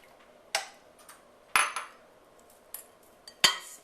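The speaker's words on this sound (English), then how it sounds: "now what I'm going to do is add my onions" Onions and eggs go into a mixing bowl for spinach squares. Several separate clinks and knocks of utensils against the bowl ring out close by, with quiet pauses between them.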